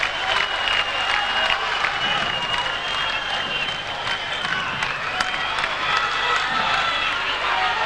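A packed crowd at a 2001 Florianopolis tennis doubles quarterfinal cheers and claps in a continuous roar, with sharp individual claps standing out above the noise.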